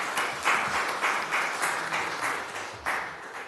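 Audience at a city commission meeting breaks into steady applause after a 5-0 vote, a moderately distant patter of many hands clapping with slightly uneven bursts, with no talking over it.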